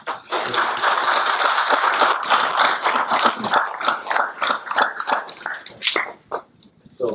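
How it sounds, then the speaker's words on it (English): Round of applause at a city council meeting, a dense burst of many hands clapping that holds steady for several seconds, then thins into scattered claps and fades out. "give him a round of applause."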